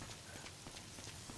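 Constant rain falls as a dense, even hiss of droplets on a surface, steady and quiet throughout with no voices.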